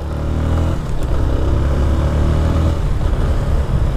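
Motorcycle engine running steadily while riding through the streets of Poços de Caldas, a loud, continuous low rumble with slight revving swells close to the mic, no talk.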